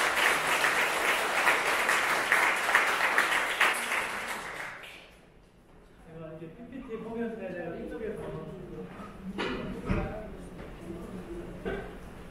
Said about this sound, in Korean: 박수로 맞아주시기를 바랍니다.